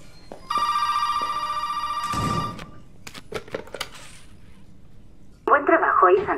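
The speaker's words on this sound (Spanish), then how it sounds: "Suena el teléfono este ahora." A steady electronic telephone ring in the video game Resident Evil 7 lasts a couple of seconds, followed by a few thuds and then a voice speaking.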